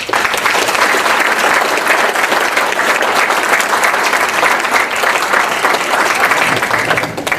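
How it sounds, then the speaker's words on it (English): A hall audience at a Portuguese American community candidates' night claps for the candidates, dense steady applause that stays loud and even throughout with no voices over it. "join me on giving our candidates a round of applause"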